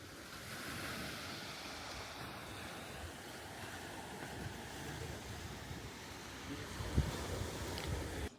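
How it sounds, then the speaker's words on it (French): Surf washes steadily onto a beach on Koh Samui, Thailand, a continuous broad roar of breaking waves mixed with wind buffeting the microphone, with one brief louder crash near the end. "voici la plage."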